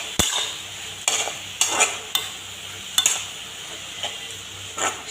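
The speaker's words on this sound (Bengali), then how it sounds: "নেড়ে চেড়ে দিচ্ছি" Turmeric and chili powder being stirred in a pan, with a handful of distinct scraping strokes of a utensil against metal over a soft, steady sizzle, close and fairly loud.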